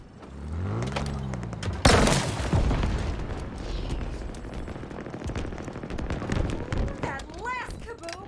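A Halo multiplayer big-team battle match with no vehicles: a loud, sharp blast at the start of the second second leads into rolling booms and rattling gunfire, with game voice callouts and music running underneath.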